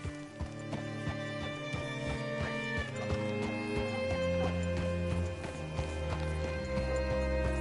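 Horse hooves clip-clopping on the ground in the Red Dead Redemption 2 video game, a quick run of hoofbeats that slows, with a faint whinny over layered background game sounds and music.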